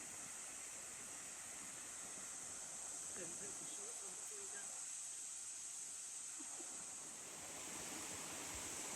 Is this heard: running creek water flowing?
yes